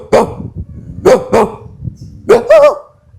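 A human voice imitates a barking dog with five sharp, close barks: a single bark, a quick pair, then another pair, over faint background murmur.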